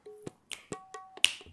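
Sharp, crisp finger snaps, about six of them in quick succession, close and clear against near silence.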